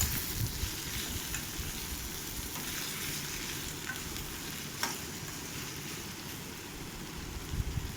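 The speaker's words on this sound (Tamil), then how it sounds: "அடுப்பை நல்லா சிம்மில் வச்சுட்டு இதை கத்திரிக்காய் நல்லா கலர் சேஞ்ச் ஆகிற வரைக்கும் நல்லா வதக்கி விடணும்" Brinjal (eggplant) sautéing over a low flame in a pan for a brinjal fry, a soft, steady sizzle with light stirring scrapes throughout, fairly quiet and with no talking.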